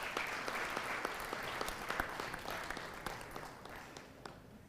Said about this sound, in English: A round of applause for these distinguished gentlemen as they come.